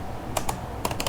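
Java code is typed on a computer keyboard in a short burst of quick, crisp key clicks, a couple at first and then a faster cluster, close and with no speech.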